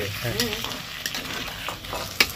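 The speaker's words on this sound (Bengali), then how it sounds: "এবার এটাকে ভালো করে মিশিয়ে নেব।" Sauce being stirred into a frying pan with fried chicken, giving a steady close sizzle with scraping stir strokes and a sharp utensil knock near the end.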